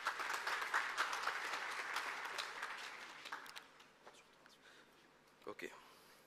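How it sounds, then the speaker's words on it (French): Audience applause for a speaker at a live-broadcast conference event in Lomé, dense clapping that starts strong then thins and fades over several seconds, leaving a few scattered claps and faint room noise. "Sous vos applaudissements"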